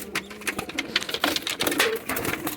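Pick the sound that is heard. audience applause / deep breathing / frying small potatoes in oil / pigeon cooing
pigeon cooing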